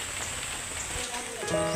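Heavy rain pouring in a hillside village during a cyclone, a dense continuous hiss of drops on surfaces, with faint tonal sounds rising near the end.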